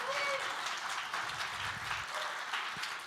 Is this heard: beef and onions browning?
no